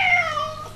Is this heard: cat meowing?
yes